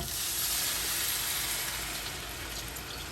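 Steady, hissing sizzle of water poured into hot sizzling sauce in a pan while cooking Guyanese karhee, continuous and fairly close, with no voices.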